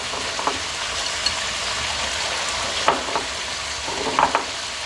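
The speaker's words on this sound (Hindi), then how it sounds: "उधर हमारी चिकन जो है वो फ्राई हो रही है" Chicken frying in a pan for a yogurt masala chicken dish gives a steady close sizzle, with occasional clinks and scrapes of stirring on top.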